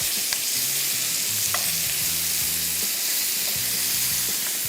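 Stuffed green chilies (masala bhari hari mirch) frying in a pan and being turned, a loud continuous sizzle and hiss with occasional light scrapes and clicks, close and steady throughout.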